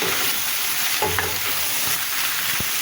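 A spatula scrapes and stirs bottle gourd in a frying pan over a steady sizzle, with a few soft knocks against the pan.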